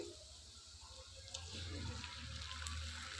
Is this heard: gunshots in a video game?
no